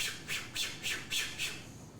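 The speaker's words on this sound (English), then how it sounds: "It seems to be flapping pretty sporadically. Not like a hummingbird, but definitely like a bird." Bird wings flapping in sporadic, irregular bursts, about six soft whooshing beats at uneven intervals, close by and fairly quiet with no talk.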